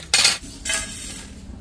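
A metal pan of fried spices is lifted off the stove, giving two close metallic clanks and scrapes separated by a short gap, with quiet kitchen ambience between them.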